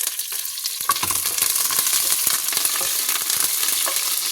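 Curry leaves and green chillies sizzle and spit in hot oil for a fish kuzhambu, a steady bright crackle with a few sharper pops and light stirring, close and continuous with no voices.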